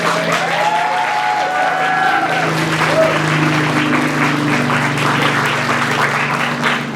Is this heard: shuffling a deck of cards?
no